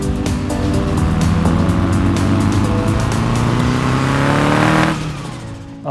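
A turbocharged 400 hp 1969 VW Beetle engine revs loud and close, holding a steady, buzzy roar for several seconds before the revs drop and it quiets.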